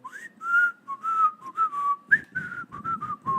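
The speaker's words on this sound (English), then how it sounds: "I can't whistle very well, at least not today" Person whistling a bouncy theme song tune, a string of short rising and sliding notes in an uneven rhythm, close and alone with faint background noise.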